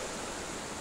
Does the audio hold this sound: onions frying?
no